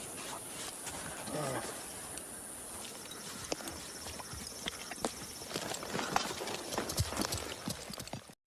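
A tired horse's hooves clip-clop steadily across hot desert sand, a faint, continuous patter of soft hoofbeats with scattered knocks and no talk over it.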